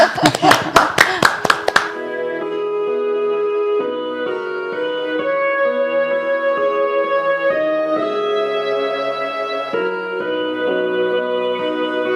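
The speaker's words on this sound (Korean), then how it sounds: "박수를 한번 청해 보도록 할까요?" A short burst of hand clapping, a handful of sharp claps at the start, gives way to sustained sung or instrumental tones, as a church worship song begins.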